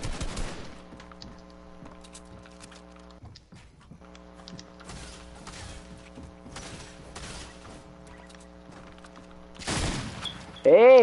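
Shotgun and other gunfire in an online shooter game, with bursts of sharp shots in clusters over a steady tonal game hum, ending in a louder flurry near the close.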